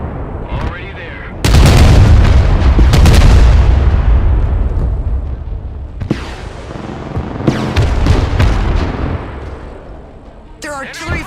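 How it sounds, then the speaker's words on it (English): Enemy artillery volleys in the Broken Arrow war game: heavy, loud booms and sustained rumbling blasts roll through in repeated waves, with sharper cracks between them. "Their artillery fires volley after volley without repositioning"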